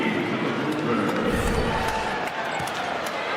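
A basketball arena crowd at an NBA game between the Suns and the Jazz rises into a swell of cheering that peaks briefly and then settles, with ball bounces and a talking voice under it.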